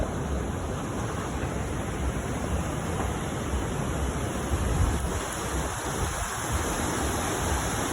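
The Swat River's dangerous waves rush past in a steady, loud, broadband roar of turbulent water, continuous and unbroken with no voices.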